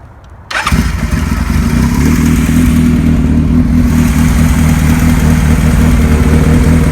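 A 1975 Kawasaki Z1900 motorcycle engine catches after a brief quiet moment, then settles into a loud, steady, close-up running rumble that holds without a break.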